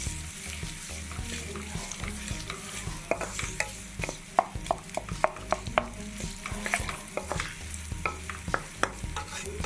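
A spoon stirring ingredients frying in oil in a pan for egg curry: a steady sizzle with repeated scraping clicks of the spoon, close and moderately loud.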